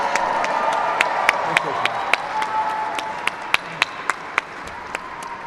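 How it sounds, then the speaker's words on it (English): Audience applause at an inaugural celebration event, a steady wash of clapping from a crowd with sharper individual claps standing out, sustained throughout. "Give them a round of applause."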